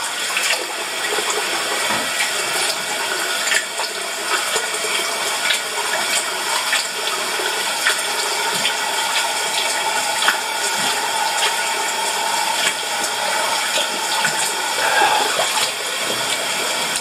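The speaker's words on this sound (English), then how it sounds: "We're gonna do a final rinse and then put our aftershave on. I usually rinse with cold water." Cold tap water running steadily into a sink while a face is rinsed after shaving, a continuous bright splashing hiss with small irregular splashes and no talking.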